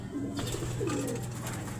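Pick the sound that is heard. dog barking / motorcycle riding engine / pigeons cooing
pigeons cooing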